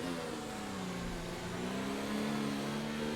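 A Formula 1 race car engine in the F1 2019 video game drives a flying lap of the Canadian circuit, a loud continuous high-revving drone with steady harmonic pitch that climbs slightly, heard up close with no talking.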